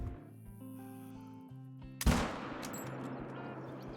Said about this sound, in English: First shot wasn't great, second shot nailed it.